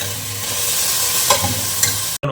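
Onions fry for mutton biryani in a pan, giving a steady loud sizzle with a couple of scraping stirs; the sound cuts out abruptly near the end before resuming.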